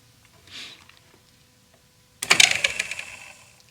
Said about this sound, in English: the little sound you heard is it's not resting in place. It rubbed up against some plastic